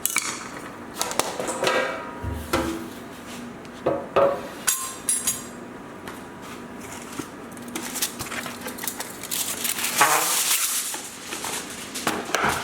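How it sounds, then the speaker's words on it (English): A metal baking sheet is handled in a home kitchen, making scattered close clanks, taps and rattles, with a denser burst of rustling and clatter near the end. "we're going to get the baking sheet now"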